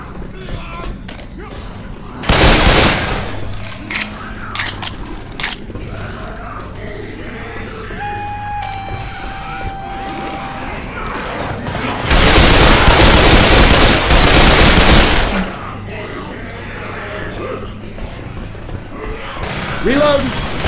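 Gunfire in the game Left 4 Dead 2 while shooting mud men, with loud sustained bursts of rapid automatic fire in two long volleys and scattered shots between, people talking over it.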